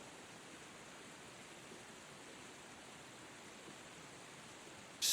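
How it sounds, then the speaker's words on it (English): Skógafoss waterfall in southern Iceland, with its 60-metre drop, heard as a faint, steady broadband rush of falling water without pauses, a distant wash throughout. "Skógafoss, one of the most powerful waterfalls in Iceland, with a 60-meter, 197-foot drop."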